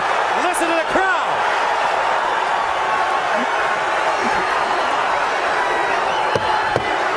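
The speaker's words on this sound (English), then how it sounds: "Listen to the crowd." A boxing match crowd between Brandon Rios and Urbano Antillon roars in a dense, continuous wash, with whoops and scattered shouts rising over it and a commentator's voice running throughout.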